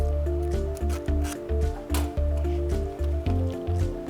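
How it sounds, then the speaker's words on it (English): Knife cutting the worn rough top cover off conveyor belt lagging, a repeated rhythmic slicing and tearing, roughly two strokes per second, close and fairly quiet over a steady machine hum, with no talk. "And we're just going to cut that off"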